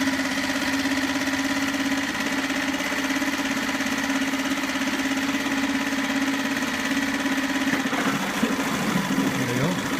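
A SeaNovo 2.5 hp four-stroke outboard motor runs steadily in gear with a constant mid-pitched hum throughout, and its tone shifts near the end as the load changes.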